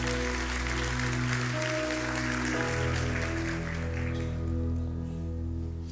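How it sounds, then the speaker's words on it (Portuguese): Congregation in a church service clapping loudly and steadily, a dense sustained wash of applause with music or organ tones held underneath. "Dê um aplauso bem forte ao Senhor."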